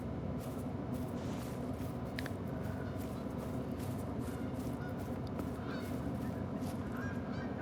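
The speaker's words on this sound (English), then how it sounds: "Hello, geese." Geese in a Yukon Valley hunting game honk repeatedly over a steady low ambient rumble, calls scattered and overlapping at mid distance, with no talking.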